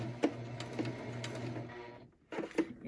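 Sewing machine stitching a cable-tie reinforced fabric face mask near its elastic, its close, steady motor whirring with a rhythmic needle tick, then stopping briefly and starting again.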